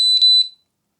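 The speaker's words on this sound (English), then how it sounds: "And you will hear double beep." An electronic device gives two quick, high-pitched beeps in close succession, followed by silence.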